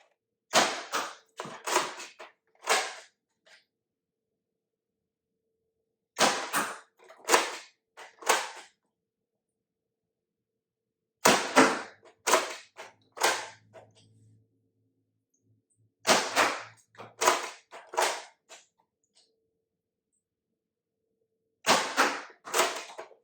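Darts fire from a Fortnite-themed Nerf blaster in several quick bursts of sharp clicks and thumps, each volley a rapid cluster of shots separated by pauses, loud and close.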